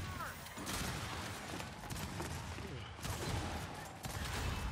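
Gunfire from many players shooting at each other in a Gears 5 free-for-all match, dense overlapping bursts and booms throughout at moderate level.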